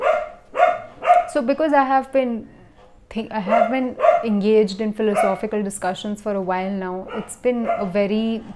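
A dog barks in short bursts in the background while a person talks steadily over it, the barks partly masked by the voice.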